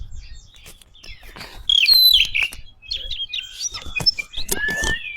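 An oriental magpie-robin (kacer) sings close by, delivering bright varied whistles and chirping phrases in bursts, loud and clear against a quiet background with faint low rumble.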